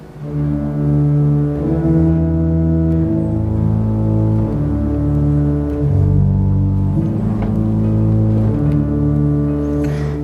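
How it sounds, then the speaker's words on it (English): Deep sustained bass notes from pipe organ pedals, changing pitch slowly under held chords, loud and continuous with no talking. "So the foot pedals of the organ are used to add lower notes to songs."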